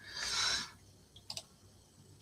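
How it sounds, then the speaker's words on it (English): A computer mouse clicks a few times, sharp and close: a couple of quick clicks followed by a small pair, with a brief louder noise burst just before them. "I do apologise if you can hear my mouse clicking."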